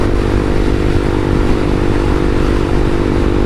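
Honda CBR300R motorcycle cruising in sixth gear at about 6,000 RPM, a loud, steady engine hum layered with broad wind roar, continuous and close with no talk.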